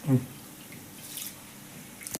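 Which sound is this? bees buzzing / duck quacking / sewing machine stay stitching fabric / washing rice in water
washing rice in water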